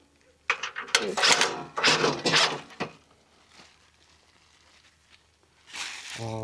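A hand-cranked ratchet tool tightening bolts on a 200 amp meter panel, with several rapid clicking bursts up close followed by a quieter pause, then a short final burst, as a person speaks.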